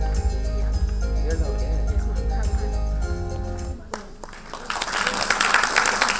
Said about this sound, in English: applause can be a lot More louder.